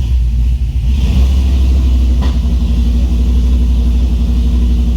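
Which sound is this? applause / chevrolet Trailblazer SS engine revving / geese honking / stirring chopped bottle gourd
chevrolet Trailblazer SS engine revving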